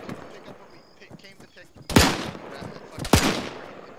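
Two loud, sharp gunshots crack in the military shooter Arma 3, about a second apart, each followed by a short echoing tail, over faint background chatter and voices.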